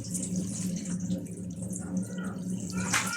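Chopped cabbage being washed in water, a close, continuous low wash of sloshing and dripping with a brighter splash near the end, no voices over it.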